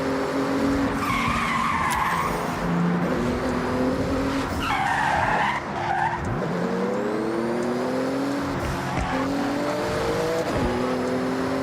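A Porsche in the racing game Forza Horizon drifts and skids with sustained tire squeal over a revving, shifting engine, loud and continuous, with pitch sweeps as it accelerates.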